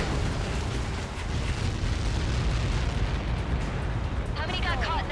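A huge in-game blast from Ace Combat 7 during lighthouse target practice, a dense roaring rumble that swells and holds for several seconds, with a brief voice near the end.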